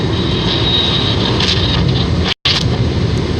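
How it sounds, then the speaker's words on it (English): A small plane flying low over trees, its engine droning loudly and steadily with a broadband roar that briefly cuts out and returns. "The plane can be heard stalling as he tries to pull the throttle up too much to avoid the nearby mountains"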